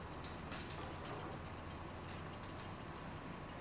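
A train in the video game Farming Simulator 25 gives off a steady, broad rumbling drone that stays constant and fairly quiet throughout, with faint higher clanks here and there.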